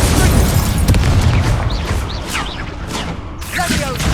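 Hogwarts Legacy's Incendio fire spell goes off with a deep, booming whoosh and crackling burst, loud and close, while voices chatter in the background.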